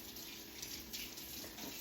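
Tap water runs steadily into a sink while Nama juicer parts are rinsed, a faint, even hiss and splash with no breaks.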